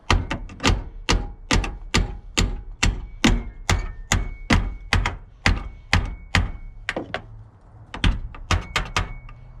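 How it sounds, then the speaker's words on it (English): A hammer strikes a door hinge pin on a Chevy truck again and again, sharp metallic knocks coming steadily about twice a second, close and loud, with a brief cluster of quicker blows near the end. "So the first pin on the top is going to be knocked out from the top."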